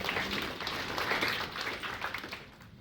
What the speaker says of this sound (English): We appreciate the applause